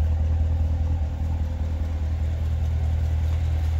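Steady low exhaust rumble from a 2019 Chevrolet Corvette Grand Sport 2LT with opening exhaust baffles, a constant close engine drone held at an even level with no talking.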